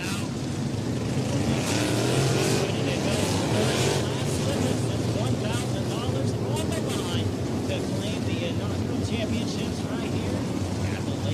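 RaceSaver Super Sprint race cars roar around a dirt speedway at the POWRi Independence Nationals, a dense continuous engine drone with passing surges, heard under an announcer's voice over a loudspeaker.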